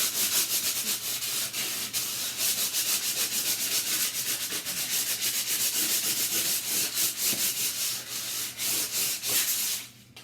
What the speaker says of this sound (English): And in the same way as you sand this and age it